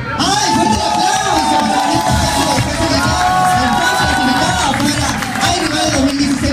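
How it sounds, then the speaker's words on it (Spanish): Studio audience at a televised casting show breaking into loud applause mixed with cheers, whoops and shrill shouts, a close, dense crowd roar sustained throughout with voices rising above it. "¡Ay, fuerte el aplauso!"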